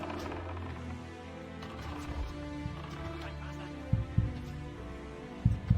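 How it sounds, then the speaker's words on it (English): A heartbeat sound effect added during editing thuds low and deep in a few spaced double beats toward the end, over a steady background of hum and music-like drone. "I like the editing, the heartbeat."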